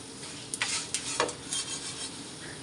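Garam masala spices dry roasting in a pan over low heat, stirred with a few light scraping strokes and a faint crackle, quiet and close, with no talking.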